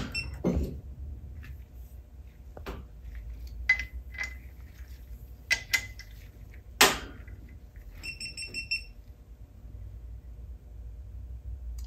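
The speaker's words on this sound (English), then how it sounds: "So I'm gonna grab our torque wrench and I'm gonna set it to that same 27 foot-pounds I just mentioned" A torque wrench is set and handled with metallic clicks, clinks and ratcheting taps of tools and hardware, scattered and close by, during work on a Subaru engine fitted to a VW transaxle with a Kennedy adapter plate.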